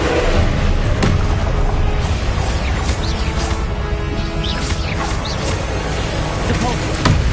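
Explosive blasting spells go off repeatedly in Hogwarts Legacy, heavy thuds and booms layered into a dense, continuous combat din.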